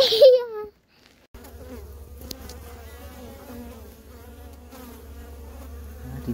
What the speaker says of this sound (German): die Bienen sind fleißig unterwegs, gerade wenn es so schön ist